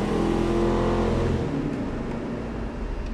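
A Ford 460 V8 built on a budget runs on a dyno, roaring loud and steady, then easing off into a lower, rougher idle rumble.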